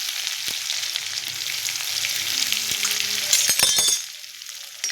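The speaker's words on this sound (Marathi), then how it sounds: "त्याच्यानंतर एक चमचा जिरं टाकूया त्याच्यानंतर थोडासा कुटून घेतलेला लसूण घालूया" Cumin seeds and crushed garlic hit hot oil with mustard seeds already in the pan, giving a loud close steady sizzle with a few sharp clinks of a spoon near the end.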